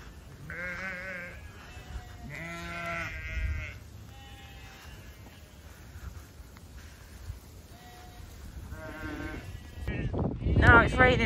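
Sheep and lambs on a farm bleating several times, loud nearby calls in the first half and more scattered ones later, over outdoor background noise that grows rougher toward the end.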